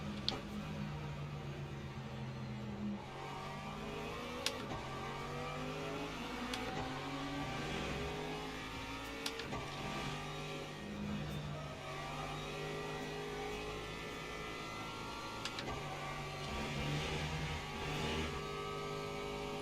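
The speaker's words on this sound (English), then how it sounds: "Another hypercar coming." Racing-game engine sound as a hypercar approaches on the Portimao circuit, a steady mid-pitched revving and accelerating drone that rises and swells through the clip amid continuous car noise, with no talking.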